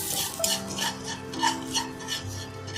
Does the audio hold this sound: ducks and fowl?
no